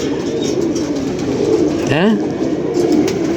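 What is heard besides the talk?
pigeons cooing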